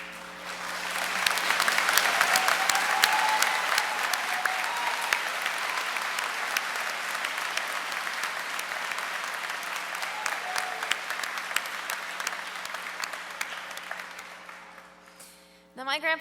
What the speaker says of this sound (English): can we give them all a round of applause and thank them for their service?